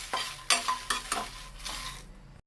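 Guntur and Byadgi dried red chillies dry roasting in a pan without oil, with repeated scraping stirs and dry rattling crackle up close, ending in a short clatter.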